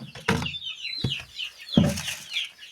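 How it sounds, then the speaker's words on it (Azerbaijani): A domestic hen clucks in three short, loud bursts, each followed by softer, higher chatter that carries on between them. The bird is close by and no voices are heard. "Toyuq qaqqıldamağı."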